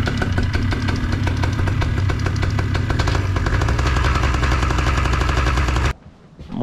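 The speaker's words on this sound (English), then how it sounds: "Go ahead and just go through a little bit of RPM." Paramotor engine on the ground during training, revving loud and close with a rough, pulsing drone for several seconds before cutting off abruptly.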